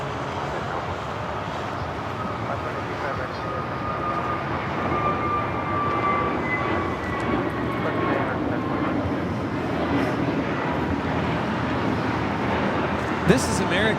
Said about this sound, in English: This is American Airlines 721 taking off to Phoenix on the A321neo